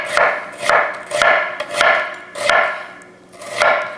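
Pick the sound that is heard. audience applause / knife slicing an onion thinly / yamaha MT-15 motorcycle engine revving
knife slicing an onion thinly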